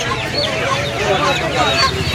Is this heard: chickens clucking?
yes